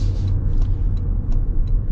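A 2026 Toyota Grand Highlander Platinum Hybrid Max accelerates, heard from inside as a steady, loud low rumble of road and powertrain noise with faint ticks and no talk.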